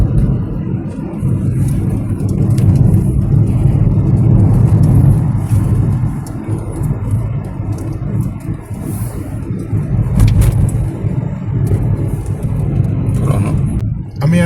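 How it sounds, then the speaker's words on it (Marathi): A truck on a road in Goa near the Banastarim bridge, hauling excavated road tar from Panjim toward Sattari taluka: a steady, loud engine rumble and road noise running continuously throughout, with no one talking. "हो ट्रक बाणस्तारी ब्रिज क्रॉस करता आता."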